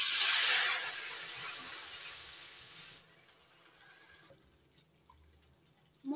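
Rinse water from a spice bowl poured into masala frying in a pan for a boal fish curry gives a loud, steady watery hiss and sizzle that fades over a few seconds, then near silence.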